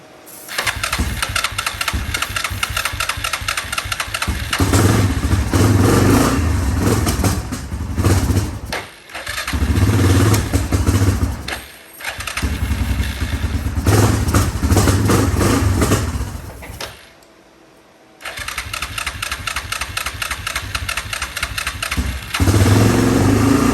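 Yamaha Grizzly 660 four-wheeler engine running loud and close, revving in surges with brief drops and a near-silent gap, rough pops suggesting backfires through the carburetor.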